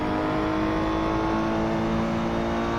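A GT3 race car engine drones steadily and loudly under acceleration from a video game, a dense continuous roar that holds close throughout with no voice over it.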